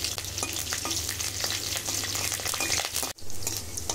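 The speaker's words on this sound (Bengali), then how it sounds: "এখানে কাঁচা লঙ্কা শুকনো লঙ্কা খুব সুন্দর করে ভেজে নিয়েছি।" Green and dried chillies frying in hot mustard oil, a dense crackling sizzle close by with stirring, cutting out briefly near the end before resuming.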